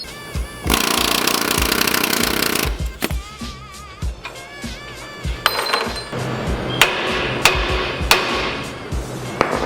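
Hammer striking a suspension part on a Ford E-Series van during a 4-inch lift kit install, a loud metallic clang and scraping at first, then ringing single hits and a clanking drop among the sharp blows.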